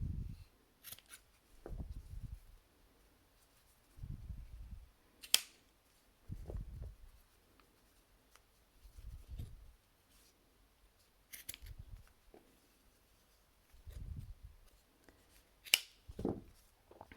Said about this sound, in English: and then I'm going to just cut the ends